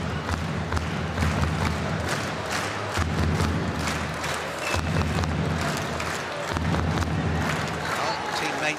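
Teammates cheering from the sidelines at a women's -63 kg gold-medal judo match at the Dushanbe Grand Slam, a steady crowd roar with scattered shouts and thumps running throughout, fairly loud and continuous.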